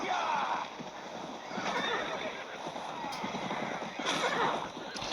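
A horse neighs and whinnies in a video game, Steel and Flesh 2, over a steady wash of ambient noise, with faint hoof clatter, no speech, continuous throughout.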